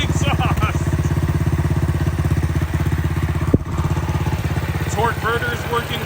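A motorcycle engine with a slightly leaky exhaust idles steadily nearby with a fast, even putter, with faint clattering and a single sharp knock partway through.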